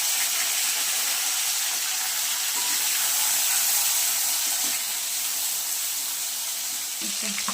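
Chopped onion and two chopped tomatoes sizzle in hot oil in a pan for chicken chana masala, a steady close hiss that holds through the whole clip with no talk.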